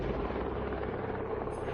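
A helicopter churns at Everest base camp after the Nepal earthquake, a steady low rotor drone with a thudding pulse holding level throughout at moderate distance, with no talk.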